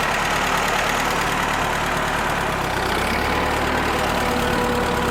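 A worn Ford tractor engine that burns oil runs in low gear, a steady, continuous, loud mechanical drone close by with a rough, knocking undertone and no voices.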